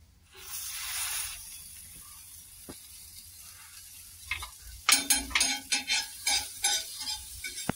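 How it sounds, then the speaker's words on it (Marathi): Bread pressed and toasted in butter on a tawa griddle, a soft sizzle early on, then a run of sharp rhythmic scraping and tapping from a spatula against the hot pan, close and without talk. "आपल्याला आता हे ब्रेड शेकून घ्यायचे"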